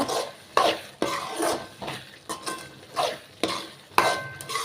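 Fried turkey berries being stirred into masala in a pan, with repeated scraping strokes of a spoon against metal at a steady rhythm, close and moderately loud, over a faint background sizzle.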